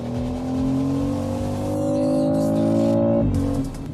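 A BMW X3 M50 SUV launches hard under launch control in sport mode, its engine roaring loud and close as the revs climb steadily, then a brief dip at a gear shift before it pulls on.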